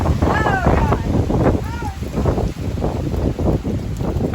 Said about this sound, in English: Getting more windy.